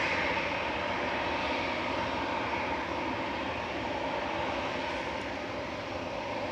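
An Emirates SkyCargo Boeing 777 freighter at Manchester Airport produces a constant broad jet-engine roar, moderately loud and unbroken for several seconds, with no talking.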